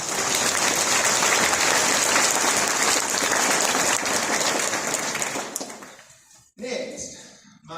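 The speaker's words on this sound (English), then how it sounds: "Please give a round of applause for that." Loud, dense applause fills a hall at a high school piano and choral banquet and awards ceremony, then dies away abruptly near the end, followed by a brief thump and some faint stray noise.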